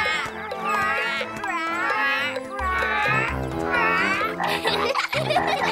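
A character in the French version of the children's show Waybuloo imitates a little frog's croak with a voice, making several warbling, rising and falling calls in a row, then a brief noisy burst at the end.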